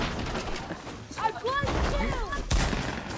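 Gunfire in the Fortnite video game: a short burst of rapid shots with whistling ricochet-like tones, heard close and fairly loud under excited talking.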